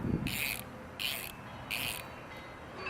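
Three short bursts of ratchet clicking as a 10 mm wrench snugs an intake clamp on a Hellcat during a B woody intake install. The bursts are evenly spaced, close, and fairly quiet over a low background hum.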